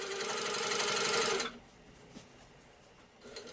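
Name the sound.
sit-down quilting sewing machine stitching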